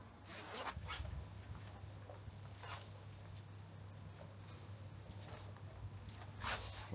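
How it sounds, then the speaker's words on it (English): The front zip of a fishing bib and brace is worked several times, giving short raspy zipping strokes with pauses between them, close and clear over a low background hum. "You've got a zip up the front."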